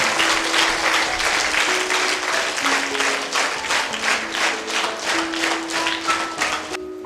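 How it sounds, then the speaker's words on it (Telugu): Sustained applause from an audience greeting speakers coming onto the stage at a yoga event, dense and loud throughout with no voices over it. "ఒకసారి గట్టిగా చప్పట్లు కొడదాం."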